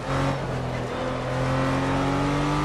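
A RUF CTR3 SMS-R race car in the video game Project Cars accelerates hard on a wet Azure Coast circuit, its engine a loud, steady, high-revving roar with layered harmonics that builds slightly throughout, with no voices.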